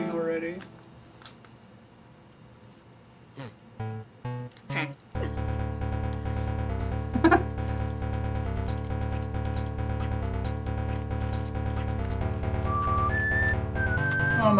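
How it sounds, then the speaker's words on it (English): Whistling comes in short bursts over quiet talk, then joins full, loud, sustained music, with a high whistled melody rising above it near the end. "The whistle."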